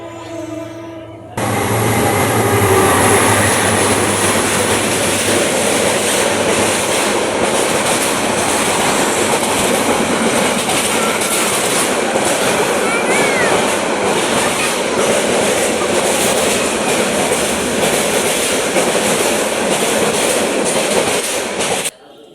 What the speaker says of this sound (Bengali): ওই যে ট্রেন আসতেছে, ট্রেন।